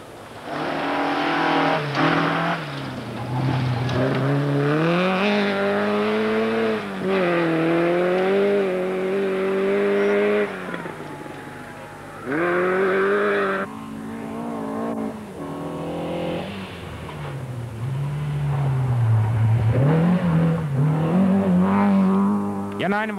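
Ford Escort RS 2000 Group F rally car driving fast on a special stage in Kangasniemi, engine loud and close with repeated revving, gear changes and pitch swoops from acceleration, running continuously throughout.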